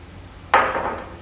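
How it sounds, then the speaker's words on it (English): Short burst of spray lubricant hissing into the bolt hole of a trailer hitch receiver on a 2014 Hyundai Santa Fe; a sudden close hiss starts midway and fades within about half a second. "We're going to take some spray lubricant"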